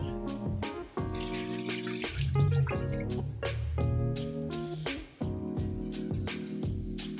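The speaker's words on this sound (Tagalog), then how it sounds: "lagyan natin ng water. Make sure na nakalubog yung ating karne." Water pours and splashes into a pot of pork in short runs, with music playing in the background.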